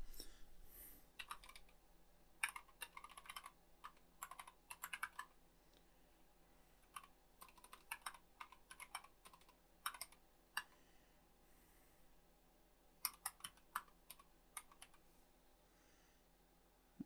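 A computer keyboard is being typed on at a desk to enter a username and password, with soft, close key clicks coming in short irregular bursts and pauses across a quiet room.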